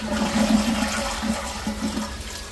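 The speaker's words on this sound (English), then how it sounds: "So there's no change when you flush it." A toilet filled with yellow flood-irrigation water flushes in a continuous rushing, gurgling wash of water, close and steady for the whole stretch with no talk.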